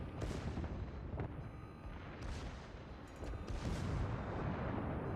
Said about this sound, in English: the secondaries are opening up